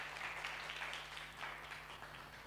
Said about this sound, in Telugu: అందరం చప్పట్లు కొడుతూ దేవుని మహిమపరుస్తాం.